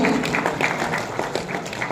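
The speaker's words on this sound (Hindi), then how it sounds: "जोरदार ताली होनी चाहिए" At a Hindi poetry gathering in Daltonganj, a crowd's dense, sustained applause rolls on steadily at moderate loudness, with faint voices underneath.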